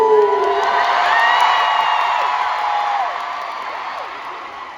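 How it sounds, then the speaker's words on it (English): A large K-pop concert crowd cheers loudly, with high sustained screams and whoops that swell and then fade slightly, giving a dense, roaring wall of voices. "let's applause to Jomo"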